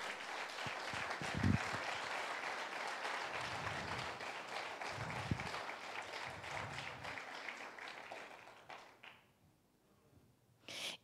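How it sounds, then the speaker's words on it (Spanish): Church congregation applauding during a Sunday service, sustained clapping with a few louder claps, fading out before a brief silence. "Bendito sea el Señor para quien es ese aplauso"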